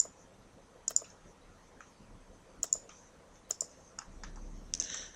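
A computer mouse clicks during CAD drafting work: about eight sharp, quiet clicks, some in quick pairs, spaced irregularly over near silence.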